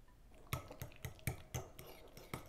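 A utensil clinks against a bowl while egg yolk filling is mixed with mustard, salt and pepper for stuffed eggs, giving a quiet, close, rhythmic series of about eight taps.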